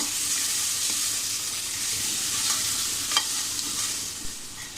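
Ground masala paste sautéing in a little oil over medium heat, a steady close sizzle with occasional stirring scrapes, alone without talk.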